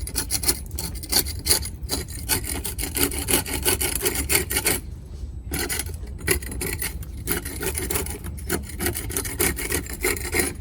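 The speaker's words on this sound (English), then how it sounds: "And we're just gonna scrape it out." A hand tool rasps and scrapes stucco out around a small hole in an exterior wall, with repeated close, gritty strokes in an uneven rhythm and one brief pause midway.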